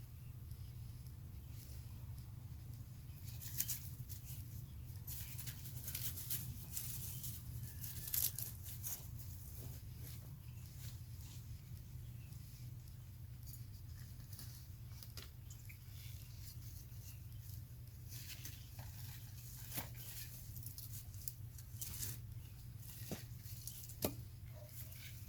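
Onions pulled by hand from garden soil, with soft scattered tearing and crumbling noises of roots and dirt at close range over a steady low outdoor hum, with no talking.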